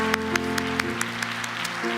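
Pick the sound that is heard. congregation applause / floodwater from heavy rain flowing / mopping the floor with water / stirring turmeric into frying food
congregation applause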